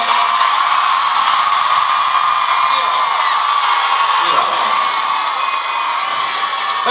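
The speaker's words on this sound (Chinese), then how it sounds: "呢啲掌声同埋最劲嘅尖叫声。" A concert crowd keeps up sustained cheering, high-pitched screaming and applause at a live Cantopop show, a loud and continuous roar with some voices rising above it.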